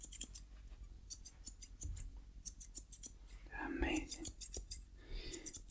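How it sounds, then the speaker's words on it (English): Scissors snip repeatedly at close range during a haircut, crisp quick cuts in irregular bursts, with soft whispered talk and a brief spoken word between the snips. "let's just get these scissors and just get the last"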